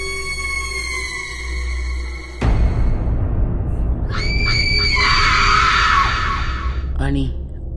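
A woman screams loudly in a horror story narration, a sharp high piercing cry with a wavering pitch that follows a brief tonal passage and a sudden loud hit.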